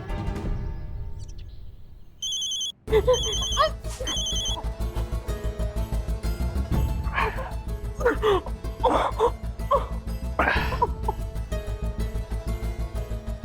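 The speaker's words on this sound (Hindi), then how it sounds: "हमको लग रहा है फोन की घंटी बजी" A phone rings with a repeating electronic trill pattern, steady and moderately loud, while a person coughs and makes throat sounds over it.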